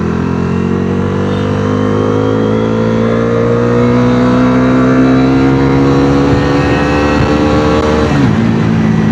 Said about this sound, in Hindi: इसका जो एग्जॉस्ट नोट है वो भी बहुत सही है.